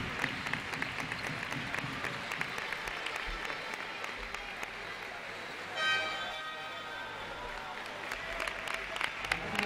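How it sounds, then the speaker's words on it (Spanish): Crowd in a basketball arena applauds an injured visiting player as he leaves the court during the final quarter of Albacete Basket against Carrefour El Bulevar de Ávila, a sustained spread of clapping mixed with a commentator talking over it. "Con el aplauso de todo el pabellón del parque"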